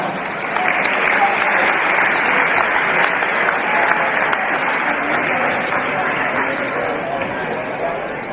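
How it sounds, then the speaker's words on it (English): Loud, sustained crowd applause at a basketball grand final awards presentation, a continuous wash of clapping that carries on steadily for several seconds. "Round of applause for our All-Star Final."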